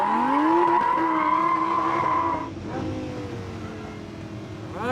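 A rear-wheel-drive Lamborghini Huracan LB-Works car skids on a track, its tires squealing loudly in a long sustained screech over engine roar that eases off partway through, with no talking.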